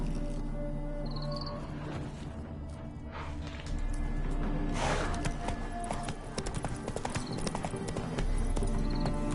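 Roach the horse galloping in a video game: rapid, rhythmic clip-clop of hooves pounding steadily and close throughout, with a brief snort or whinny and game ambience underneath, no talk.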